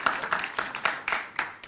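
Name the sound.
audience applause welcoming the speakers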